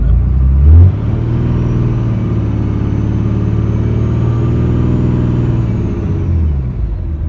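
A diesel truck fitted with a Smarty Touch tuner is revved in place, with a loud engine rumble that rises and holds at a steady higher pitch along with a faint turbo whine, then eases back down, close and with no talking.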